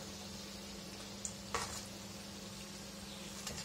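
Chicken cutlets fry in a pan of hot oil with a steady, quiet sizzle throughout, broken by a brief scrape or clink of turning near the middle and no talking.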